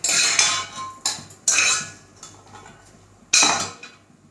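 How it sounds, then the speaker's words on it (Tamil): Sautéed ginger being scraped with a metal spoon into a mixer jar, giving several sharp clinks and scrapes of metal on metal and glass in irregular bursts with quiet gaps between them. "இது மிக்சி ஜாரில் இதை ட்ரான்ஸ்ஃபர் பண்ணிக்கணும்"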